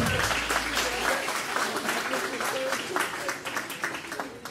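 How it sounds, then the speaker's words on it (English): Wedding guests applaud a father-daughter dance for Larry and Jillian, steady dense clapping filling the room at a constant level, with crowd chatter mixed underneath. "Let's give a round of applause for Larry and Jillian."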